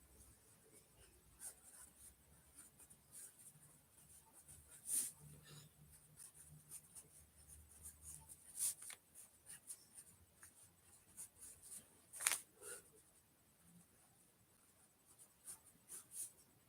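Pen moving across a paper page, a faint, soft scratching with scattered louder strokes and taps over a quiet background.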